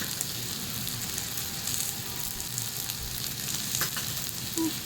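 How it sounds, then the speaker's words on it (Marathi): Thalipeeth sizzles steadily in oil in a pan, producing a continuous close crackle with small pops and no talking. "तुम्ही बघू शकता आपण जे गोल केलेले होते थालीपीठला त्यामध्ये सुद्धा मी थोडं थोडं तेल सोडत आहे"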